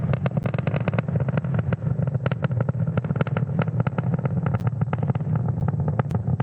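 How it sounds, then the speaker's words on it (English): A SpaceX Falcon 9 rocket launching Starlink satellites as it climbs through supersonic flight produces a steady, crackling roar with dense rapid pops, continuous and distant-sounding. "watching the 60th launch of 2022 Falcon 9 carrying our Starlink payload out into space"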